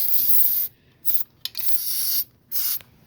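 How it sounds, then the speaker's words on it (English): Three bursts of aerosol lubricant spray onto a seat mechanism hiss, each lasting about half a second with brief silent gaps between, close up and fairly loud. "I can also spray a little bit on this mechanism."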